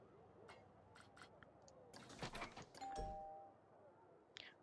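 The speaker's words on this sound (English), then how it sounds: "What is that doorbell sound?" A short in-game doorbell chime from Planet Coaster, sounding when a door is used on a dark ride, with a clear tonal note near the middle amid soft background game sounds and brief clicks.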